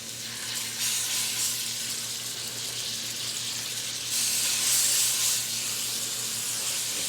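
Already-cooked smoked sausage browning in olive oil in a pan, a steady close hiss and crackle of frying that swells louder partway through, with no talking.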